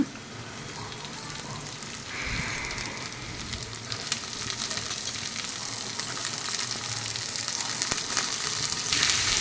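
Beans tossed into onions browning in a pan, a continuous hissing fry that grows a little louder and busier partway through, with a faint clink, close by and free of talk.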